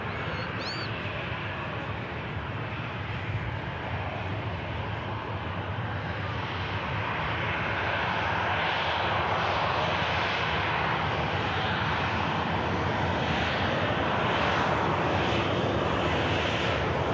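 A Ryanair jet airliner taxis at Manchester Airport, giving a steady, broad engine roar that holds close and fairly loud throughout, with no voices over it.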